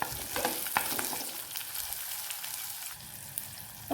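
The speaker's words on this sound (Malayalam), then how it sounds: "വഴറ്റി കൊടുക്കാം" Green chillies and curry leaves sauté in hot oil in a pan, a loud, close, continuous sizzle broken by sharp spatula scrapes and stirring.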